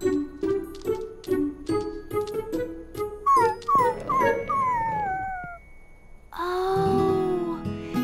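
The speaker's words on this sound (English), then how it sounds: "Goodness, what's gotten into you, silly puppy?" A cartoon puppy gives a series of short rhythmic yelps, then rising and falling whimpering howls, near and clear, followed by a louder sustained wail.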